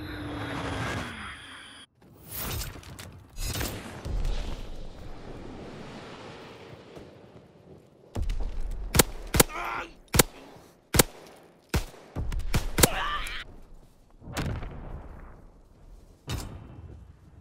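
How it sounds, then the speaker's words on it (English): Azon bomb dropping and exploding in a World War II shooter on a snowy Carentan map, a whistling fall and rumbling blasts followed by a rapid string of sharp gunfire cracks and booms, loud and close. "Dropping Azon bomb."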